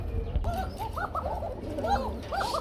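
An Arabian trumpeter pigeon gives a series of rolling, trumpet-like coos in quick repeated bursts, close and clear against a low background rumble.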